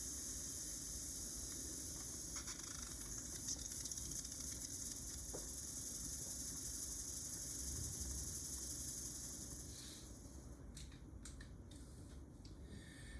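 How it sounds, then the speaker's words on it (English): A steady, continuous hiss of steam jets from a flask of boiling water rushes on without pause, with a few faint mechanical ticks toward the end. "When the water boils, the steam jetting out of the arms spins the flask."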